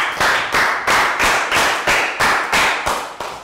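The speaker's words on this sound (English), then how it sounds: "Round of applause." Classroom round of applause from young Year 3 pupils: about nine loud, evenly spaced claps in a steady rhythm, close by, with no talking over them.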